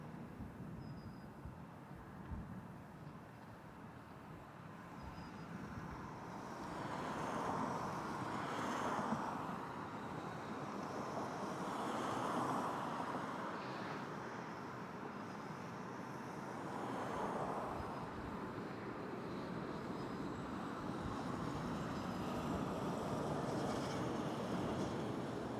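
Porter Embraer E195 airliner arriving at Toronto Pearson airport, a broad distant jet roar that swells and fades as it passes, heard continuously with no talking.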